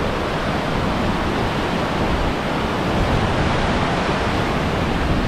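Powerful river rushing near a bridge in Hällefors, Sweden, a loud, steady broadband roar of churning water that fills the whole stretch without pause.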